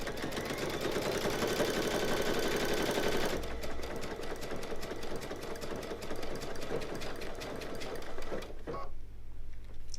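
A Brother Luminaire Innovis XP1 sewing machine stitches a buttonhole with a fast, steady mechanical whirr and rapid needle clatter, close and continuous, shifting in pace partway through and pausing briefly near the end.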